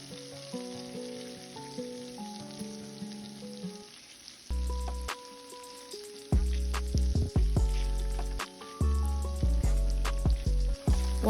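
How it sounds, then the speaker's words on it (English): Steak bites sizzle in melted garlic butter in a pan, a steady frying hiss that grows louder when the meat goes in, playing under background music. "we're gonna go ahead and add the steak bites back in once the butter is nice and melted"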